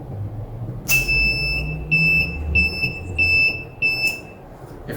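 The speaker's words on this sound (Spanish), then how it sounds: "se obtienen diferentes sonidos para el booster zumbador" A shrill electronic buzzer on a breadboard circuit sounds in a series of short, evenly spaced high-pitched beeps, loud and close, over a low background hum.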